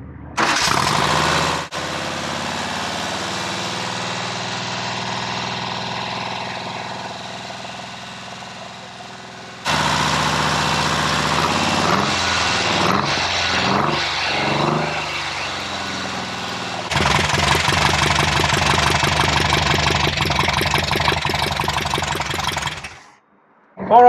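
An air-cooled VW engine in a sand rail runs at steady, loud throttle while being broken in, with a continuous buzzing drone interrupted by brief cuts and revs as it keeps running close by.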